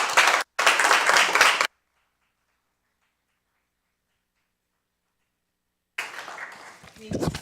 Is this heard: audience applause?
yes